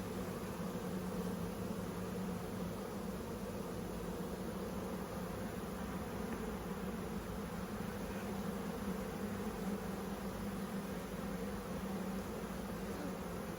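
Honey bees swarm around an open backyard beehive full of brood and honey stores, a dense steady buzzing hum that fills the whole stretch at an even level without breaks.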